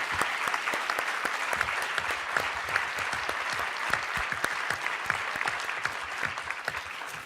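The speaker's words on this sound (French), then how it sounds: "Alors, on les applaudit, effectivement" A workshop audience applauds panelists, a brisk sustained round of clapping with crisp individual hand claps audible throughout, steady and fairly close.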